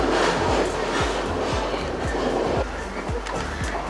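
A train rolls through hill country in Sri Lanka, heard from the last wagon: rhythmic clickety-clack of wheels over rail joints every half second under a steady rumble and wind.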